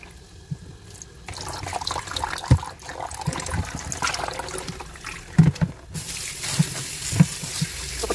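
Vegetables washed under running water for dumpling soup, a steady close splash and trickle from a tap with occasional knocks and clatters in the sink, the flow growing brighter toward the end.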